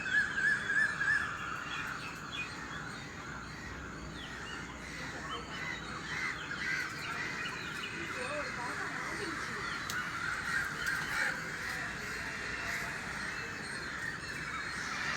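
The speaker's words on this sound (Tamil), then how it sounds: "காக்கா கூட்டத்தை பாருங்க." Many crows caw repeatedly from around a rooftop garden, harsh overlapping calls continuing throughout, with voices talking underneath.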